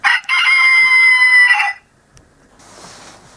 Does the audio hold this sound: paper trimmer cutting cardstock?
no